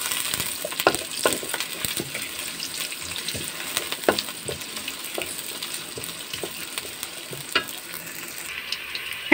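Onions and green chilies fry lightly in a pot, a soft continuous sizzle with frequent small clicks and stirring scrapes, close and low in level.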